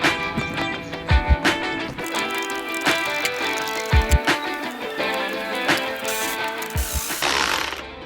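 A power tool whirs in repeated short bursts while unscrewing bolts from the jackplate of a race boat under restoration. Each burst is loud and close, with a steady mechanical drone between them and no talk.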